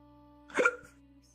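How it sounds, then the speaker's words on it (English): A single short hiccup, fairly close, rising out of a quiet background with a steady low electrical hum. "Oh, it's a hiccup."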